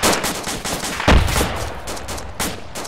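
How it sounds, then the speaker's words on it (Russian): Gunfire in the military video game ArmA 2, a dense stretch of rapid overlapping shots and bursts with one heavier blast, loud and close, with no talking. "Стрельба со всех сторон, непонятно."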